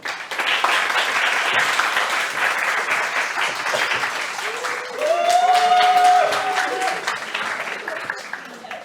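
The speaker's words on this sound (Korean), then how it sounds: "앞쪽에 오실 때 여러분 큰 박수 부탁드립니다" Audience applause welcoming Gil Ami, a working-mom planner, to the front for her career lecture, steady clapping throughout with a brief tonal whistle or feedback tone rising over it midway.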